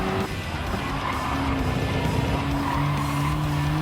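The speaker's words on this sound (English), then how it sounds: "just driving Mini Cooper" Mini Cooper hatchback racing in Gran Turismo 7, its engine droning steadily with rising tones while tires skid and squeal continuously throughout, loud and close with no talking.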